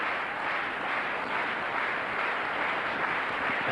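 A crowd applauds at a 1991 European Masters table tennis match in Bonn, steady dense clapping filling the arena without a break and at an even loudness throughout.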